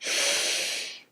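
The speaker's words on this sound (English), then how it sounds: "take a deep breath in and just release it" A single deep breath drawn in, close and airy, a steady rush that swells quickly and fades after about a second, with no talking.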